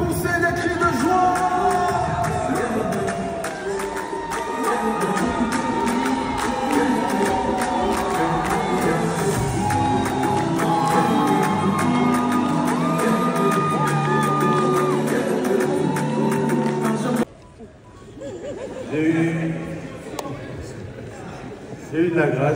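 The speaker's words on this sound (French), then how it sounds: "Est-ce qu'on peut pousser des cris de joie?" A gospel concert crowd whoops and cheers for joy in a sustained loud roar under a speaker and music, then the noise cuts off abruptly near the end before a few scattered shouts return.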